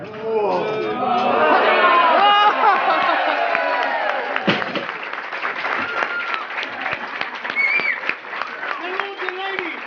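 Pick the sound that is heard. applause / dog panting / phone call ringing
applause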